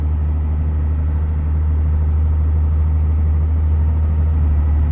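A 1990s Dodge Cummins turbodiesel pickup with a four-speed drones steadily as it pulls through the gears, a loud, constant low rumble from inside the cab with no voices.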